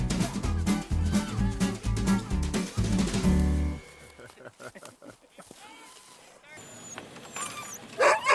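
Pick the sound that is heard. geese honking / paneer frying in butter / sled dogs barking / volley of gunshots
sled dogs barking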